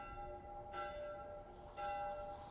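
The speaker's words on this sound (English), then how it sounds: "That bell is loud." A church bell in The Last of Us Part I rings out, fairly faint and distant, with two or three resonant strikes whose tones linger and overlap, heard alone without speech.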